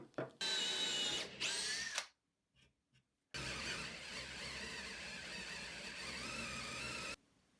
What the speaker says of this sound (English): I'm going to use this as my drill guide for the part that goes into the leg